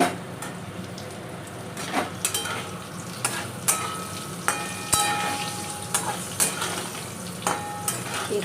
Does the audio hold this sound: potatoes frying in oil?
yes